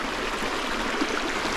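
The East Dart river on Dartmoor, a shallow moorland stream rushing and burbling steadily close by, continuous and fairly loud with no speech.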